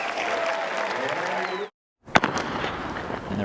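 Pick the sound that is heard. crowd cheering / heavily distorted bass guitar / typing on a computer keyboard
crowd cheering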